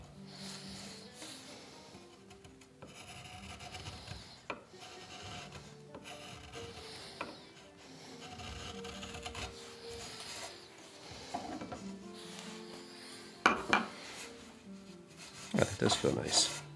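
Hand tools scraping and rasping at the corners of a wooden Greenland paddle, quiet repeated strokes with a few louder scrapes near the end and faint knocks, close by.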